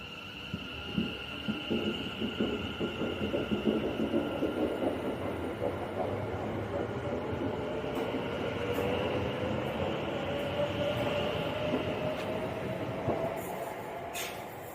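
West Midlands Railway trains depart from University station, a low rumbling drive that builds into a rolling clatter of wheels with a rising tonal whine, then fades as the trains move off.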